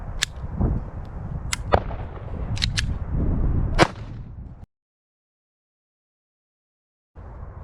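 A SIG Sauer P322 .22 pistol fires CCI AR Tactical ammunition in a run of about six sharp, cracking shots at irregular intervals, followed by silence.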